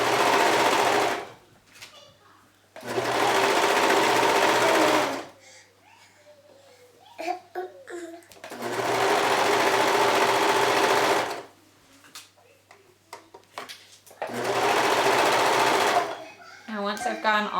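Sewing machine stitching a neck binding onto t-shirt fabric, running in four sustained bursts separated by pauses filled with soft handling noises.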